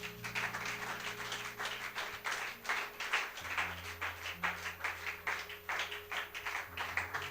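A church congregation claps in a steady rhythmic beat while acclaiming God, with many hands clapping together over a low sustained organ or keyboard tone.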